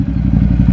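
A motorcycle fitted with a Termignoni race exhaust revs in sport mode, giving a loud, close, throaty engine roar with a pulsing low rumble for under a second.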